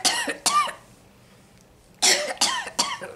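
A voice imitates coughing: two sharp coughs, a short pause, then three more harsh coughs in quick succession, close and loud.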